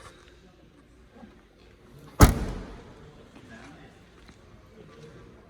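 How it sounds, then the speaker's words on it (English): The boot of a BMW 320d M Sport with the M Sport Performance kit pops open in one sharp, close thunk, followed by a brief fading rattle against a quiet background. "Let's pop the boot for you to have a look at the room here"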